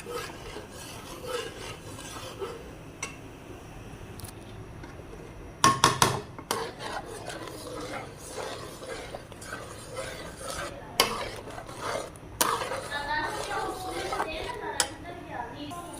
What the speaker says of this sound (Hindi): तो अच्छे से मिक्स करेंगे।